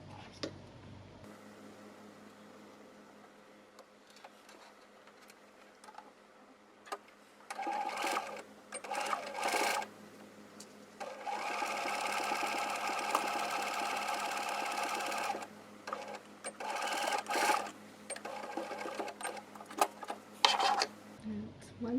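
A domestic sewing machine stitches the side seams of a fabric card holder in several bursts of steady running, with short pauses between runs and a soft hum in the background.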